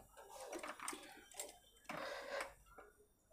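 A sewing machine runs in slow short bursts while hemming, giving soft ticking mechanical stitches close by with brief pauses between runs.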